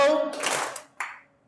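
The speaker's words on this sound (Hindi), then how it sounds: "जब कभी मैं हेलो बोलूंगा तो आपको सिर्फ एक बार ताली बजानी" A live corporate training audience claps together once on cue, a dense burst of many hands, with a second shorter clap cluster trailing after, at moderate level indoors.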